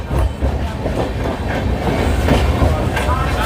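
Train carriage rolling along the rails, heard from inside on a crowded train running from Howrah toward Kharagpur Junction, a loud steady rumble with faint rhythmic clatter throughout.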